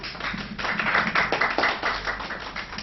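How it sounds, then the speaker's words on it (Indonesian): A room of guests at an agents' gathering claps to welcome Mr. Chow, hands striking in a moderately close, uneven patter that swells after a brief start and keeps going to the end. "boleh berikan tepuk tangan ke Mr. Chow"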